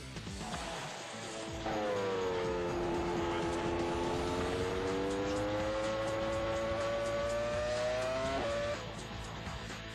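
A Formula 1 race car at speed gives a high, harmonic engine whine that sweeps down and back up over several seconds, fairly faint and set against a background of crowd-like noise.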